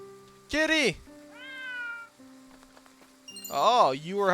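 A video game cat meows in short, bright, clear calls, one near the start and a longer one near the end, with a softer tonal chirp between them over quiet background game tones.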